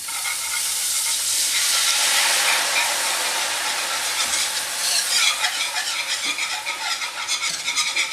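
Sauce poured into a hot pan with bass fillets and raw garlic for bass l'orange, a loud burst of hissing sizzle that settles into steady bubbling crackle, close and without talk.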